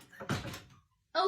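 Door shutting with a brief knock and thud amid a short burst of sound in a setting with a reported paranormal presence, then quiet; a voice speaks around it.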